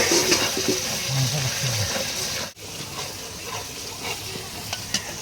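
Spices with cumin paste and a splash of water fry and sizzle in a pan while being stirred, a steady close hiss with scraping stirs and a brief dip midway.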